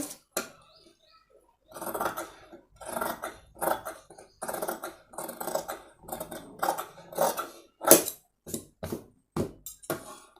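Scissors snip through blouse front fabric while cutting a princess-cut blouse, with a run of short, crisp close-up snips in an irregular rhythm and no talk.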